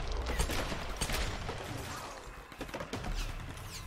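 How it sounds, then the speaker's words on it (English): Gunfire in the Tomb Raider video game, a dense volley of sharp shots and impacts in quick succession, loud at first and then thinning into scattered cracks. "where are the shots coming?"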